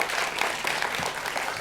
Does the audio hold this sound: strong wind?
no